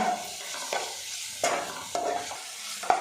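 Onions frying in a pan with chilli powder, stirred by hand: a steady close sizzle broken by several scraping stirs, no voices.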